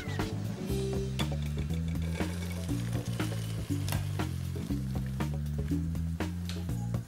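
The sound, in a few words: pike-perch fillet frying in pan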